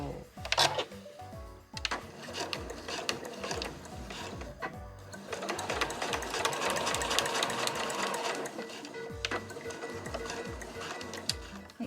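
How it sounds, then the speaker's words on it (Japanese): A home sewing machine stitches a Korean-style nubi quilted tote bag with an inner pocket: a close, busy mechanical whir of rapid rhythmic needle clatter that runs almost continuously and grows steadier midway. "そしたら反対側も同じようにして縫います。"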